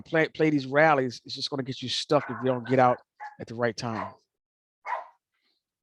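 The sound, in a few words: dog barking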